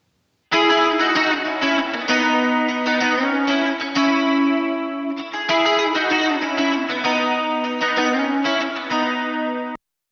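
Doubled lead electric guitar panned left and right, one played on a Fender Jazzmaster's middle pickup, ringing chorused melody with echo and slight grit, loud and continuous for about nine seconds before stopping.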